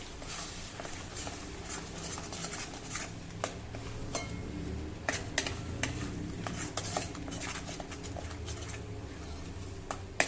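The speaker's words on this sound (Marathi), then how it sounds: "आता मंद आचेवर हे वाटण देखील आपल्याला छान परतून घ्यायचं आहे." A ground masala paste is sautéed in a pan over a low flame for an eggplant curry. Busy stirring and spoon scrapes against the pan come close and continuous over a soft frying hiss, with faint bird calls in the background and no speech.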